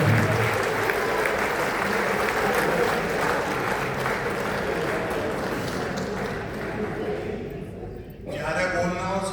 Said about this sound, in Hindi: और अंतिम बात पर आपकी फिर तालियों की मोहर लगेगी।